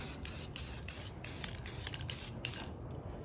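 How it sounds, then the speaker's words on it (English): Close, steady hiss of an aerosol can spraying a quick mist of black paint as a guide coat on a Subaru EJ253 engine part, pulsing in quick short bursts with a faint rattle between sprays. "Just gonna hit it with a real quick mist of black spray paint."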